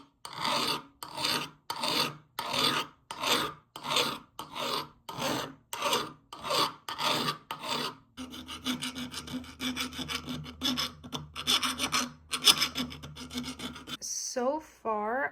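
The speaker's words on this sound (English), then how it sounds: "I'm just taking the time to file down the edges and get rid of any sharp points" Hand file rasping along the sharp edges and flanges of a cast iron coat rack, about a dozen steady back-and-forth strokes at first, then a denser continuous scraping with a faint hum underneath, close and clear.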